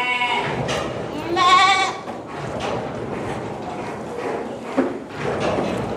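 Goats bleat in a farm shed, a loud, wavering call near the middle standing out over a steady crowd of overlapping animal cries and light thumps from the livestock.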